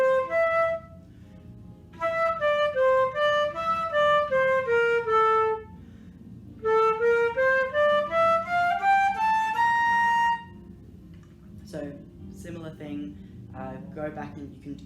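A flute plays two quick runs of nine notes each, the pitch climbing then falling, over a low hum, followed by brief scattered noises.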